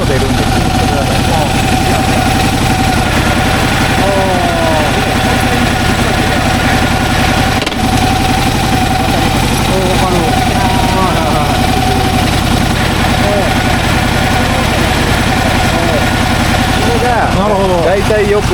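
A 2009 Harley-Davidson FLHTCU with a worn inner primary bearing idles loudly and steadily nearby, a continuous deep rumbling throb throughout, with voices talking faintly beneath it.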